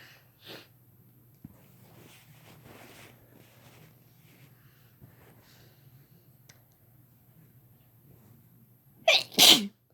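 After a long quiet stretch with faint breathing and small rustles, a sharp, loud double sneeze erupts close by near the end, part of a series of rapid sneezes.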